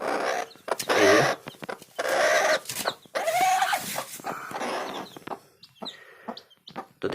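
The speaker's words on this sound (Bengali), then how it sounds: "তো দেখতে পাচ্ছ বাচ্চাগুলো কিন্তু খুব সুন্দর আছে, 14টা বাচ্চা কিন্তু এখানে আছে।" A hen and her fourteen young chicks cluck and peep in a steady stream of close, loud calls with brief pauses, with no one talking.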